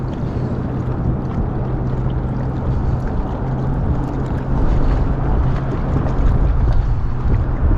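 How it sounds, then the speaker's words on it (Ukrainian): Wind buffets and rumbles loudly against the microphone on a riverside embankment in Kyiv, in a steady, continuous roar, with low blustery gusts and no voices. "Вітер нам сьогодні трошки буде заважати. І в плані якості звуку"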